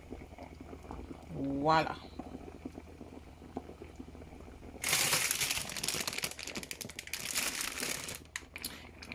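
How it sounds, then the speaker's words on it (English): Jamaican steamed fish with crackers and scotch bonnet pepper simmering in a pot, a steady bubbling and crinkling that swells loud and busy halfway through, with a brief spoken word near the start. "put the crackers on top and make it simmer down for another 5 minutes"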